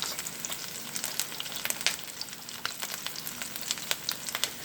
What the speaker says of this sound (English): But the thing is to have enough oil in your pan, and you want the pan to be nice and hot.